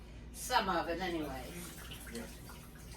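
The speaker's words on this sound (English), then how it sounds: "Let me pour the water off." Water is poured off a pot of rutabaga into a sink, a short splashing gush that fades quickly, close by, with a brief spoken phrase.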